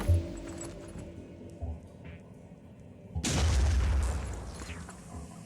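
Grenade explosion in the tactical strategy game Phoenix Point, set in a mutant lair, a sudden loud blast midway that tails off into a rumbling decay after quieter clicks and thuds.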